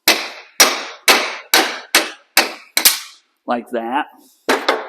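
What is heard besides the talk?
3-pound sledgehammer hammering a socket on a Willys Jeep part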